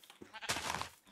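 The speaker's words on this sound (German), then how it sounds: "Hier sind noch mehr Schafe." Sheep bleating in a video game, one short, loud, broad bleat rising over faint background noise, lasting about half a second, with no talk.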